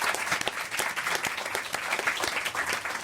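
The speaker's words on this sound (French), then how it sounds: "Bravo, on vous applaudit, Jean-Louis Hecht." Studio audience on a French TV talk show bursting into steady, dense applause, many hands clapping evenly throughout at moderate distance, with no talk over it.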